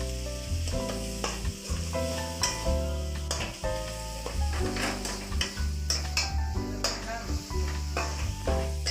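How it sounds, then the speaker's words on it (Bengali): Chopped tomatoes fry with cumin and coriander powder in a pan for tadka dal, a steady sizzle under constant stirring and scraping, with a tonal background hum throughout. "খানিকক্ষণ নেড়ে নেবার পর আমি এখানে কেটে রাখা টমেটো অ্যাড করে দিচ্ছি।"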